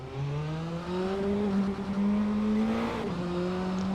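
A Praga R1 race car engine in the racing game Assetto Corsa drones steadily and loud, its pitch climbing gradually through the revs before dipping briefly at a shift and rising again.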